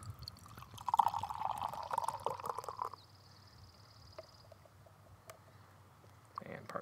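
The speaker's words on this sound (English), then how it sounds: "since I'm only gonna be pouring part of the can into this little glass" Peach ale poured from a can into a small glass, a close gurgling pour lasting a few seconds, then a faint fizz, with a voice talking at times.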